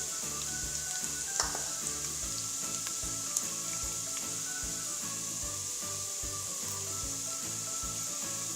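Steady hiss of vegetables, including yardlong beans and carrots, sizzling in a hot pan with onion and garlic, with occasional soft scraping and clinks of a spatula.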